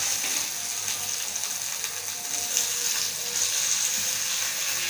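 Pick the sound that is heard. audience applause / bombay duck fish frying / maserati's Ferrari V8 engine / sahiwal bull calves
bombay duck fish frying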